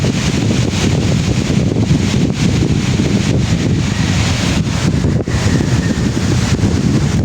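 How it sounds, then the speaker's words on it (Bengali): Strong, steady wind buffets the microphone by the water during the monsoon season, a constant broadband roar with faint surf or wave wash underneath and no pauses throughout. "আজকের বাতাস প্রচুর।"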